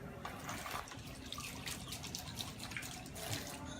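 Tap water runs over a freshly separated egg in a kitchen sink, a soft steady splashing stream with light dripping, faint and close, with a bit of background voice.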